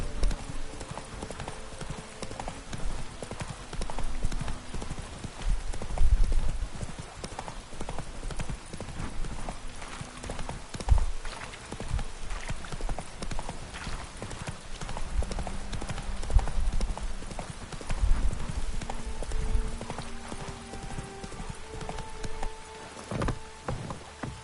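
Roach the horse gallops in The Witcher 3: Wild Hunt, a steady run of hoofbeats clip-clopping close and loud across the whole stretch, with faint rain and game ambience underneath.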